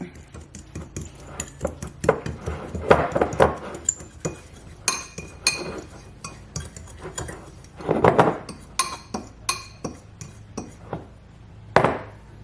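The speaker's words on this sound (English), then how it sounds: "Just make sure you just mix that pumpkin spice and brown sugar up really good." A pumpkin spice and brown sugar mixture is stirred in a bowl, giving repeated close clinks and scraping taps of a utensil against the dish in an uneven rhythm, with occasional louder knocks.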